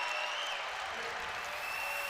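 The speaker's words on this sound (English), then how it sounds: "the crowd just roared to their feet" Arena crowd at a Big Ten college wrestling dual meet, Ohio State at Rutgers, roaring and applauding a bout victory, a dense steady wash of clapping and cheers.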